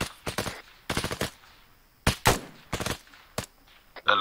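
Bursts of automatic gunfire in the military video game Arma on the Takistan map, several short loud volleys separated by brief pauses, with sharp single shots between.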